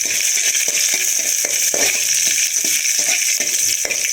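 Whole spices, cloves, cardamom, cinnamon and fennel, with curry leaves crackle and sizzle steadily in hot oil while tempering for a country chicken curry, a close, continuous frying hiss with small pops and stirring clinks throughout.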